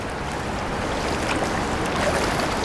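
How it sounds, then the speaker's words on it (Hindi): Fast-flowing water of the Swat River in Pakistan rushes in a loud, steady, broadband roar that fills the whole moment with no pauses. "पानी का बहाव बहुत तेज़ है।"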